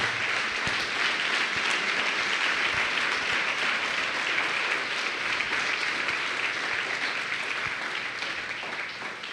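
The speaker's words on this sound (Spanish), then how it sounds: "Dele un gran aplauso a nuestro Rey, por favor." A church congregation applauds the King during a Sunday sermon, steady dense clapping sustained throughout and fading slightly near the end.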